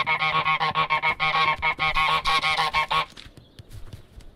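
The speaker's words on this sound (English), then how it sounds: "If I find a geese sound like that, I will murder it." A cartoon goose in Untitled Goose Game honks loudly and rapidly about a dozen times over three seconds, close and harsh, then falls quiet with only faint background sounds after.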